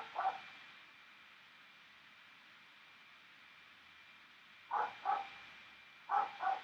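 Distant dog barks arrive in three small clusters of two or three woofs each, faint against a quiet background hiss with no talking.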